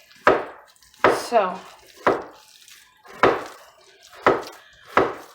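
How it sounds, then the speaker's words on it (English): Onions being chopped on a board in a home kitchen, about seven sharp knife strikes at a steady, unhurried rhythm, close and distinct, with a brief spoken word between cuts. "hubby's over there chopping onions for all the rest of the recipes."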